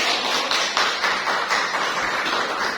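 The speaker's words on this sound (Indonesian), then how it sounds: "Boleh berikan aplaus untuk kita semua" Audience applause at a school education event closing, a steady dense patter of many hands clapping close by, continuous without talk.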